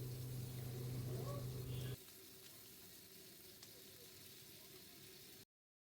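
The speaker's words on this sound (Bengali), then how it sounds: "আমি এক এক করে কাঁকড়ার সমস্ত পার্টগুলো ভেজে নিচ্ছি।" Crab pieces frying in oil for Bengali kakrar jhal, a loud close sizzle that drops abruptly to a softer steady crackle partway through before cutting to silence.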